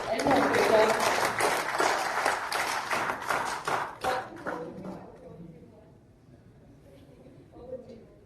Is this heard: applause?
yes